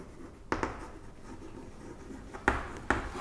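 Chalk or marker strokes on a board come in quiet, sharp taps and scrapes: a pair of strokes early, then two more near the end, with faint room noise between.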